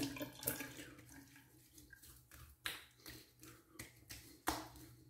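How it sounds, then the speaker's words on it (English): Faint running tap water during a shave rinse, a soft splashing flow broken by a few sharp taps and flicks, quiet and close with no speech. "Just get a little rinse going."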